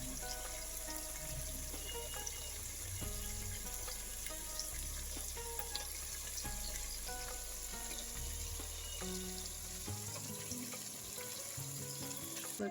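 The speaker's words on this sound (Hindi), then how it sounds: "अब हम इसमें चिकन के पीसेस डालेंगे" Chicken pieces fry in a pan of softened tomato masala with a steady, dense sizzle, broken by occasional scraping and stirring clatter throughout.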